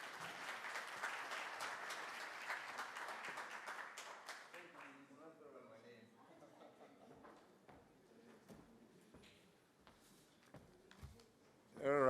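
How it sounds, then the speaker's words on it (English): Conference audience at an energy-industry event gives a short burst of applause that fades after a few seconds, leaving quiet room sound and a voice speaking near the end. "A round of applause"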